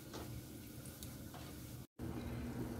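Celery, a small onion and a small bell pepper sauté in bacon fat with a quiet, steady sizzle close by, briefly cut off by a momentary gap and then resuming, with no voices.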